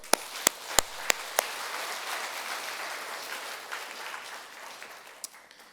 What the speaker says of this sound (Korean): 우리 박수 한번 합시다.